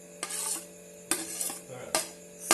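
Grated coconut frying in ghee in a wok is stirred with a spatula, giving three distinct scraping strokes against the pan, close and crisp, with a faint sizzle between them.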